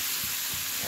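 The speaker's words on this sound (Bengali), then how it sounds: "এই যে আলুটা আমি খুব ভালো করে ভেজে নিচ্ছি।" Potatoes fry in a pan with salt and turmeric, a brief, steady close-up hiss of sizzling oil with faint stirring.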